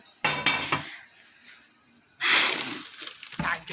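A frying pan and dishes clank in a home kitchen, with a cluster of sharp metallic knocks followed by a longer scraping clatter and a final bump, fairly close.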